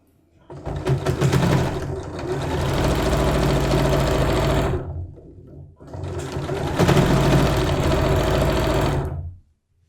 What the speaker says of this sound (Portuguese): E vamos costurar o resto.